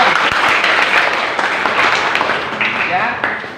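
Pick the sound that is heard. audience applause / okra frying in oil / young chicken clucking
audience applause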